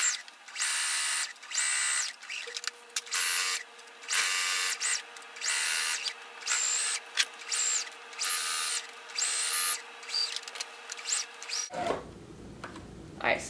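A sewing machine stitches a fabric book sleeve in repeated whirring bursts, each a few seconds long, close and steady, with brief pauses where the needle is set down and the work is turned.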